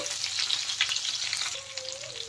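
Potatoes sizzle and crackle in a pan, with occasional stirring scrapes and a faint tonal hum in the background.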